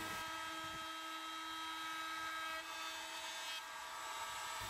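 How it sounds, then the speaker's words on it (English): Wood being cut by a router fitted with a 45-degree chamfer bit while edging the sides and front of a radiator cover, a steady high-pitched whine held for several seconds with only a brief dip. "I've now got the 45 degree chamfer router bit, so I'm going over the sides and the front section"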